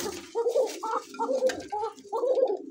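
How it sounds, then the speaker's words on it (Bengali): A pair of Bashiraj pigeons cooing in a cage, several soft, throaty coos in quick succession, heard close and fairly quiet with no talk over them. "হ্যাঁ দেখেন ডাকটা দেখেন কবুতর"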